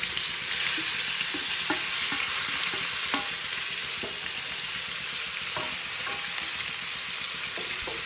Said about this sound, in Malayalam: ഇതിലേക്കിട്ട് മീനിനെ വറുത്തെടുക്കാം